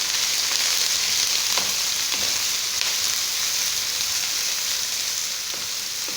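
Onion fries in a little hot oil with a dense, even, close sizzle that holds steady for several seconds, with faint stirring ticks underneath.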